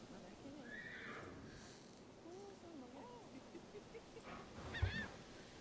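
In the online riding game Star Stable Online, a horse lets out a few short, faint whinnies over a low ambient backdrop, followed by a brief thump.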